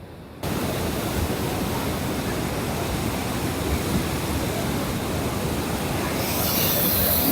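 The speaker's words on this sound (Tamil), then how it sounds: "இங்கால அப்படியே தண்ணி சும்மா அருவி மாதிரி கொட்டுது" Floodwater pours through opened sluice gates of a reservoir in Kilinochchi after heavy rain, a loud, steady broadband roar that starts abruptly and runs unbroken throughout, with a slight brightening near the end.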